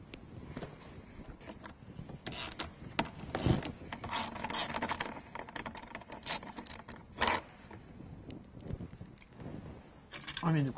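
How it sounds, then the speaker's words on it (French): Someone works a ratchet fitted with a 10 mm socket on a Renault Scénic 2 dCi, producing close, quiet bursts of clicking and rasping mixed with handling clatter while someone talks. "Je vais prendre un cliquet avec une douille de 10."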